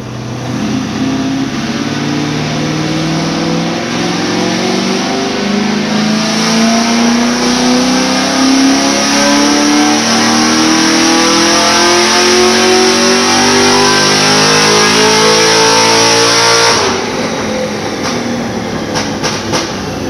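A tuned car on a chassis dyno during a power pull, its engine running on pump fuel and climbing steadily in pitch for about seventeen seconds, loud and close, then dropping off into a lower rumble and clatter as it winds down.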